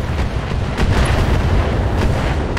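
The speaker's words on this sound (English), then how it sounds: "Except the turrets hit me in the back" Turret fire pounding a mech in Battletech, a continuous heavy rumble of booming impacts, loud and close, with no distinct breaks.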